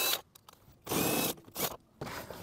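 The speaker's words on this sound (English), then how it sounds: "And then we're gonna remove these 10 millimeter bolts" Ratchet wrench loosening 10 mm bolts on the dash panel of a 2016-2019 Lexus RX, heard as several close, loud bursts of rapid clicking separated by short pauses.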